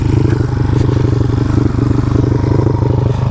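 A motorcycle engine runs steadily with a low throbbing idle and slight revving, close and loud throughout, with faint mechanical clatter.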